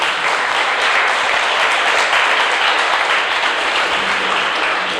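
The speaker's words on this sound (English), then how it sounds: "Let's clap for them." Steady, dense applause from an audience at a mental health awareness session, filling the whole stretch at a loud, even level with no talk over it.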